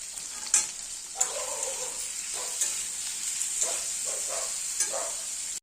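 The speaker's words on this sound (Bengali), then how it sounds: "আলুগুলো লাল লাল করে ভেজে নেব। একটু হলুদ গুঁড়ো দিয়ে দিচ্ছি।" Potatoes fry in oil with turmeric in a pan for a vegetarian paneer dish, with a constant close hiss broken by periodic stirring scrapes and spatula knocks.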